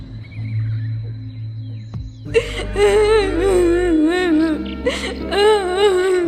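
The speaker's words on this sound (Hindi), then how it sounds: "ये तो बूढ़ी चुड़ैल की रोने की आवाज लग रही है।" An old witch in a Hindi cartoon cries with loud, wavering, sobbing wails that rise and fall in repeated bursts, breaking in after a low droning hum.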